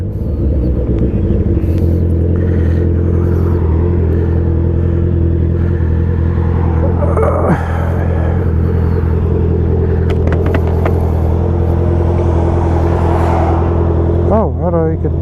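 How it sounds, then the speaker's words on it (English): Heavy road traffic of cars, a steady loud rumble of engines filling the whole stretch with passing vehicles and occasional revving, with someone talking over it. "Man, there's so much traffic."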